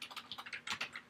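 Quick keystrokes on a computer keyboard, a rapid run of light, crisp taps close to the microphone with no voice.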